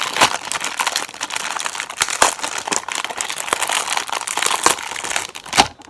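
Packaging crinkling and crackling as a paint protection film kit for a Kawasaki Z650 is opened, with close, loud, irregular rustles and sharp crackles throughout and a few louder crunches.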